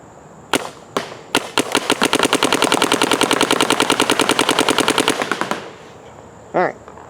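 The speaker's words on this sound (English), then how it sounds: "let's shoot the Dynasty ball first" CS2 paintball marker with an HK hopper firing Dynasty paintballs: a few single shots, then a fast, steady burst of loud, sharp pops lasting about four seconds, ending abruptly, followed by a brief faint squeak.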